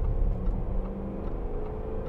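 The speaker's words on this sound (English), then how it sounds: "we'll just give it some gas here and get past this lorry." Range Rover TD V8 diesel engine accelerating to overtake a lorry, a low steady drone and road rumble from inside the cabin, fairly quiet with faint ticking.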